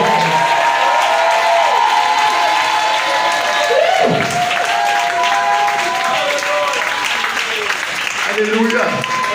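A church congregation claps and cheers in a loud, sustained wash, with raised voices calling out over the applause.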